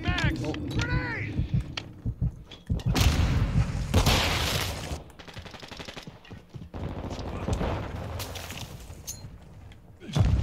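A grenade explodes in Call of Duty: Modern Warfare II multiplayer, a loud broadband blast amid bursts of gunfire, with game voice lines heard early on.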